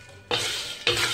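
Dried lychee shells tossed and stirred in a wok, two long, close rasping sweeps of brittle shells scraping against metal, crisp and dry, with a short pause between them.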